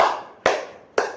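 Three sharp hand claps evenly spaced about half a second apart, close and loud, with no voice over them, as part of a counted clapping pattern in a classroom lesson.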